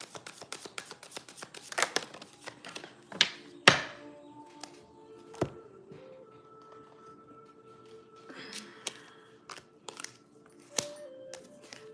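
Tarot cards riffled and tapped repeatedly in quick bursts, with soft thuds and shuffling between sharper snaps, close by, no talking.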